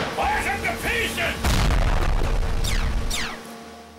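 Cartoon weapons fire at robots in a burst of booming blasts and sharp pops with zapping sweeps after them, loud and close, with voices and music around them.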